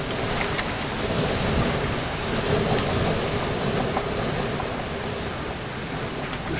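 Strong wind gusts roar through an outdoor spot in Victorville, California during a May wind storm, a steady loud broadband rush with swelling blasts and no talking.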